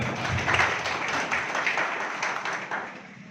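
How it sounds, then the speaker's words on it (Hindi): Audience clapping loudly at an Indian village development gathering to welcome guests; sustained dense applause that gradually softens, with no speech over it. "आप सब लोग एक बार जोरदार स्वयं के लिए, यहाँ अतिथिगण के लिए जोरदार तालियों से स्वागत हो जाए"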